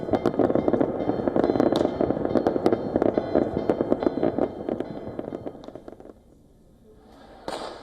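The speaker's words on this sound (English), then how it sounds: "Greece rang in the new year with fireworks over the Acropolis in Athens" New Year fireworks burst over the Acropolis in Athens, a dense, continuous crackle of loud pops and booms that thins out and fades, with a last sharp bang near the end.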